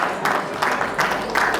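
Wedding guests at an apostolic wedding clap in rhythmic bursts roughly every third of a second, a steady, moderately loud round of applause from a room full of people, with faint voices underneath.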